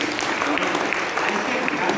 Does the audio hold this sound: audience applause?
yes